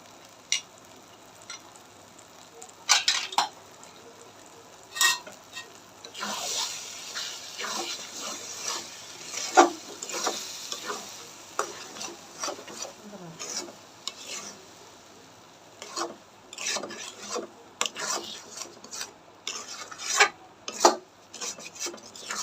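Mango chutney simmers in a pan while a spoon scrapes and stirs it, giving irregular rasping strokes and soft bubbling over a quiet background.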